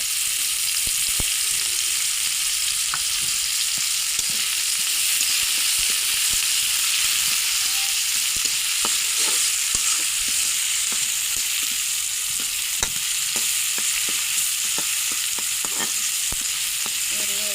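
Chopped onions fry in a little oil in a wok, giving a steady, close sizzling hiss throughout with scattered sharp pops and crackles, no talking.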